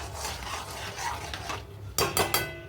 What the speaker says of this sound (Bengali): এবার একটু নেড়ে দিই